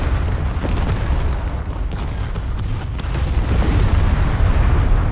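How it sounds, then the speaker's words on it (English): Artillery explosions in a video game make a loud, continuous deep rumble of booms that rolls on heavily and grows slightly stronger toward the end. "I think the artillery worked."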